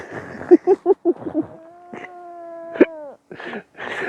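A cat in a cabin camp gives a drawn-out, tonal meow between short scratchy bursts of rustling noise, close and fairly loud.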